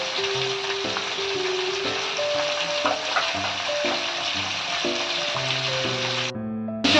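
Ground coconut paste frying in a pan for shahi sukto, a loud, close, continuous sizzle with stirring scrapes, steady throughout with music playing underneath and no talking.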